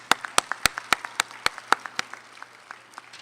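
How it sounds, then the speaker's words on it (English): Audience at a graduation ceremony gives a round of applause: sharp, distinct claps close by, thinning and slowing toward the end as the clapping dies down. "Why don't we give everyone again, including yourself, another round of applause?"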